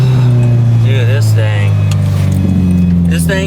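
Subaru WRX fitted with a swapped EJ205 engine, idling steadily and close, a constant low drone with a slight rev, while a person talks excitedly over it.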